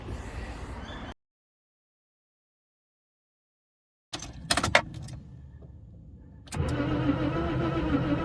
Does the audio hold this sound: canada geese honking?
no